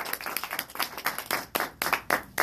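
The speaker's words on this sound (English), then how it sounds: "One round of applause" Scattered clapping at a Toastmasters meeting, a small group giving a short round of applause in uneven bursts, close and fairly loud, with no voices over it.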